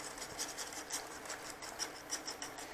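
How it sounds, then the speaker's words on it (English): Whisk scraping and rubbing through flour and butter in a non-stick pan, a faint, steady rasping with soft rhythmic strokes and no voice. "So I'm just going to whisk this together"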